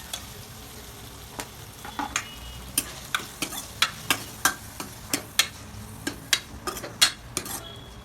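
Tomatoes frying with spices in a pan for dal, a soft sizzle under a run of sharp, regular utensil taps and scrapes against the pan, close up with no talk.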